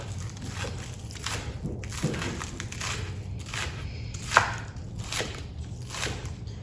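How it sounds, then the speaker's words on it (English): A knife chops scallions on a cutting board in a run of crisp, irregular cuts, close and moderately loud, with no talking. "We're going to chop some scallions."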